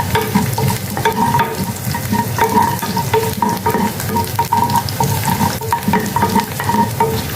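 Four cloves of cut garlic sautéing in hot oil in a pan for a South Indian sundakkai vathal kuzhambu, a steady close sizzle and crackle with occasional stirring scrapes, no talking.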